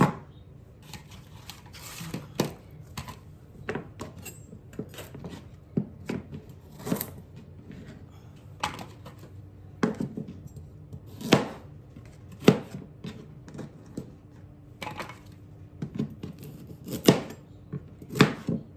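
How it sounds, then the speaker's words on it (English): Vegetables for a pasta soup are chopped with a knife on a board, a close, steady series of sharp knocks in irregular clusters against a quiet kitchen background. "we're going to cut up our vegetables while that's heating up"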